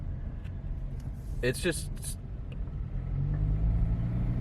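A Honda Civic Hybrid cruises on the freeway under cruise control, its steady low road and engine rumble droning throughout, swelling slightly near the end, while someone talks briefly over it.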